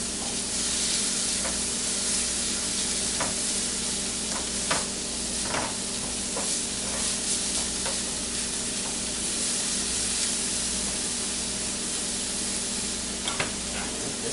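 Onions frying in a pan, a steady close sizzle and hiss running throughout with occasional soft scrapes and ticks as they are moved, no talking.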